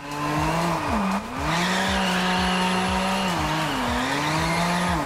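Car tires squeal during a drift in an underground parking garage in the racing game TDU Solar Crown. The squeal is loud and sustained, rising and falling over a steady engine drone.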